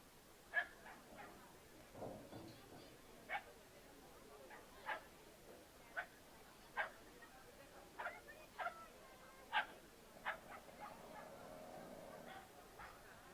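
A pug barks in short, sharp yips spaced about a second apart during an agility competition run, moderately distant over the arena's background murmur.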